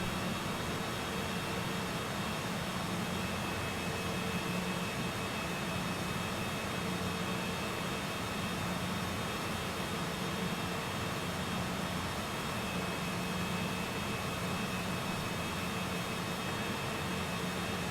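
A Cessna Citation CJ4 business jet taxis in Microsoft Flight Simulator, its engines giving a steady, even whine and rumble that runs unbroken and fairly quiet, with no voices over it.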